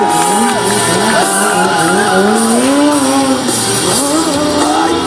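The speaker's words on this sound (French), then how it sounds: "ça c'est un petit sortie de drift" Stunt car drifting at a stunt show, its tires squealing loudly and continuously with sweeping pitch slides over a steady engine drone for the whole stretch, with a faint crowd underneath.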